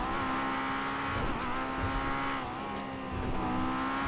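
A car engine roars at speed in GTA V, its pitch rising and falling with brief dips, steady and close with no talking.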